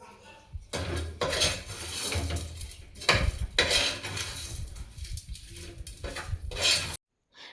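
A metal spatula stirs chicken frying with ginger-garlic paste in a pan for biryani, giving repeated close clanks and scrapes in uneven bursts, with a faint sizzle beneath, before falling silent at the end.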